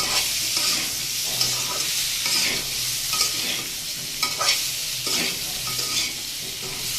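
Taro (gati kochu) curry frying in a pan, a dense close sizzle with rhythmic stirring scrapes and spatula sweeps repeating every second or so.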